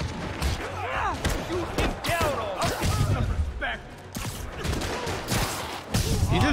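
Gunfire rings out in Marvel's Spider-Man Remastered on PC, with repeated sharp shots and thuds over dense combat noise and game music, while characters talk throughout.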